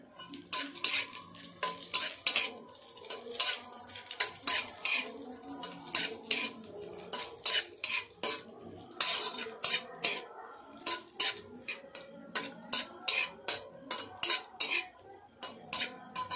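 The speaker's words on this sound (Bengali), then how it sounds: "এবার আমি কাজু ও কিশমিশ ভেজে নেব" Cashews and raisins fry in hot ghee in a pan while a metal spatula stirs them, giving a steady run of close, sharp scraping clicks over a soft sizzle throughout.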